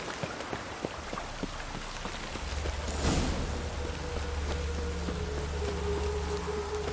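Rain falling in The Witcher 3 game world, a steady close patter of drops on surfaces with a low rumble swelling partway through, no talk.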